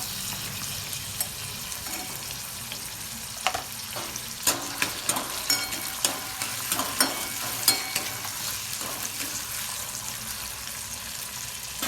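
Tomatoes frying in a pan for restaurant-style dal fry, a steady close sizzle dotted with sharp pops and spatters throughout.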